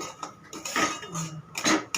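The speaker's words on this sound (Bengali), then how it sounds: "একটু লাল লাল করে ভেজে নেব।" A metal spoon scrapes and clinks against a pan while semolina is dry-roasted for sweet semolina halwa, with bay leaf added after fried cashews, almonds and raisins are removed; several close, irregular scraping strokes, with no talk.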